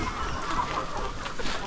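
Free range chickens on a poultry farm cluck continuously at moderate distance, a steady outdoor flock murmur with no talk over it.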